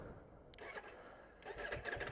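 A 2020 Ducati Streetfighter V4 S motorcycle cranks twice in quick succession and catches, its engine firing up close by with a short, sharp burst before settling into a rough idle.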